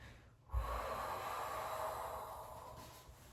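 A single strong exhale during a Pilates mat exercise with a magic circle: a sudden breathy push of air that trails off slowly, close and alone with no talking.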